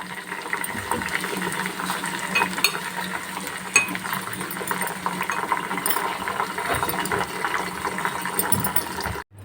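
Homemade hair oil with leaves simmering in a pan on a stove, giving a steady close bubbling and crackling fizz that runs continuously at moderate loudness, with no talking.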